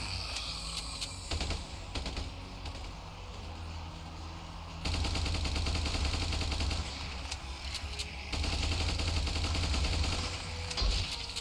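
Rapid automatic gunfire in the battle game Ultimate Epic Battle Sim, dense crackling bursts that run continuously and grow louder midway, with brief lulls between long strafing volleys.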